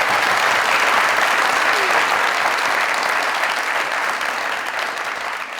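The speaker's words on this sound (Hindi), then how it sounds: "तालियां।" A studio audience at an Eid comedy show delivers loud, dense applause from the start, holding steady before easing slightly toward the close.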